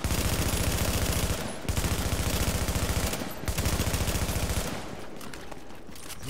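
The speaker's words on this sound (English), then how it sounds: "I can switch over to submachine gun and" A submachine gun fires in sustained rapid bursts in the video game The Division, loud and close, with brief breaks between bursts.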